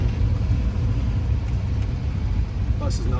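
A 1974 Volkswagen Westfalia bus, parked for 20 years, drives in second gear with a loud, continuous low engine rumble and road noise throughout.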